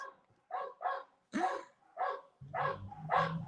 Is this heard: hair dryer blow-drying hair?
no